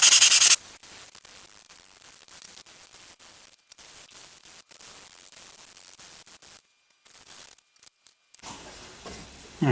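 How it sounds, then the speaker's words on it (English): Soft, steady rasping of 220-grit sandpaper rubbing on black walnut topwater fishing lures, continuous with a few short breaks, close and fairly quiet. "now we're going to hit them with some 220 grit, smooth them up really nice"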